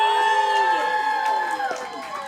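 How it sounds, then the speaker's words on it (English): Comedy club audience at a live event cheering and whooping loudly with mixed shouts, a dense crowd roar with overlapping voices throughout. "the crowd goes wild!"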